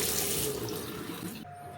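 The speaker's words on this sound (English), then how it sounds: "You can also operate the water on both sides here to make sure that the pump is getting some action" Fresh water runs from a tap on a Moonraker boat, fed by the onboard water pump, a steady close splashing stream that cuts off abruptly near the end, leaving a faint hum.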